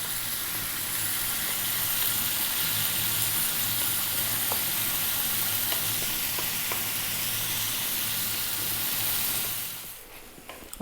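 Tomatoes cook on lively heat in a pan for green beans, giving a steady, close sizzle and hiss that runs evenly for about ten seconds with faint stirring clicks, then quiets near the end.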